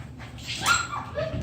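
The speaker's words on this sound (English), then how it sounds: "She's the most wonderful dog." A puppy whimpers and gives small yipping barks, close by and fairly soft, with a rising whine in the middle of the short burst.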